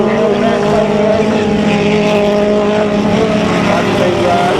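Sand racing car with straight-through exhaust pipes, its engine a loud, constant droning roar held throughout with no pauses, while a commentator talks over it.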